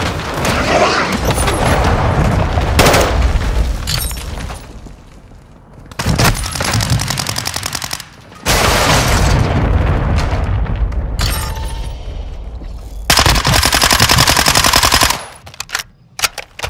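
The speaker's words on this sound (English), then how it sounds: "Hostiles launched a cruise missile." Cruise missile strike and gunfire in the Call of Duty video game: bursts of rapid machine-gun fire and heavy booming explosions in loud alternating blocks, with brief quiet gaps between them.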